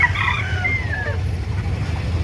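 A handsome, low-priced gamefowl rooster, offered as a possible broodstag, lets out a single crow in the first second that trails off, over a steady low hum of background noise.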